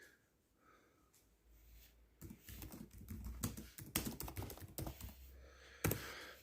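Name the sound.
typing on a computer keyboard to fix a typo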